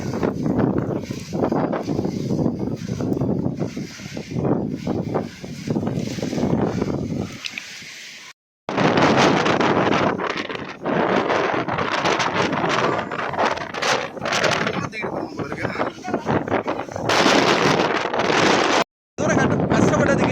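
Loud gusts of strong wind on Parvathamalai hill near Tiruvannamalai batter the microphone almost continuously, broken by two brief drops to silence, with voices faintly mixed into the roar.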